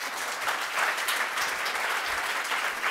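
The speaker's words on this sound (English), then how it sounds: "Applaud them, applaud them." Audience applause for a conference panel on media and platforms, a short burst of dense, steady clapping from a crowd, loud and without talk.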